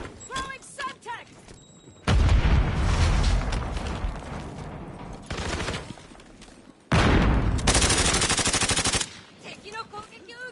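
Bursts of loud automatic gunfire and heavy blasts in a Fortnite match, coming in two long dense barrages separated by quieter stretches, with a Semtex grenade thrown amid the fighting and short game voice callouts at the start and end.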